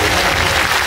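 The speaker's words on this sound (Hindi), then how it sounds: "जोर से ताली बजाओ" Loud, dense applause from an audience at a Women's Day ceremony, a brief burst of many hands clapping close and continuous.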